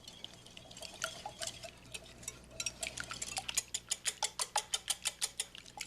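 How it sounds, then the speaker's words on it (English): Eggs and vanilla are whisked together in a bowl, the wire whisk producing sharp rhythmic clicks against the sides that start loosely and settle into a quick, even beat toward the end. "And just whisk together to make it easier to beat into the batter."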